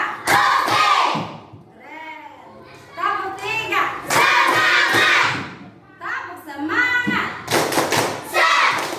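In a classroom, a teacher leads rhythmic clapping chants with children, bursts of patterned claps and thumps alternating with loud shouted group responses and a voice calling out.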